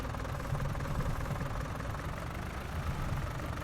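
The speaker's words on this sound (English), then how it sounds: "So I've hooked up the straw blower now to the tractor" Tractor engine with a straw blower attached in a farming video game, a steady low idling rumble with a faint rhythmic knock, continuous and fairly close throughout.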